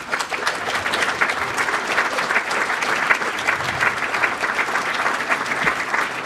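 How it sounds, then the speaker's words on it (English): An audience at a chamber of commerce awards event bursts into sustained, dense applause, loud and even from start to finish, with no pauses. "I would like a huge round of applause for these folks that make this program possible"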